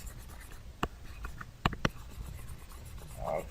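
Erasing writing from a board during a lesson on capacitors: a few short, dry scratchy strokes, close and quiet, separated by brief pauses, with no one speaking.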